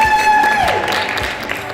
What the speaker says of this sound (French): On peut l'applaudir! Bravo!